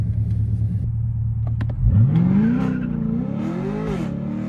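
Chevrolet Corvette C8 3LT Z51 sports car pulling away, a steady low engine drone swelling into a rising rev as it accelerates, heard close from inside the cabin with no talking.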